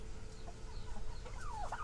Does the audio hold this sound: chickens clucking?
yes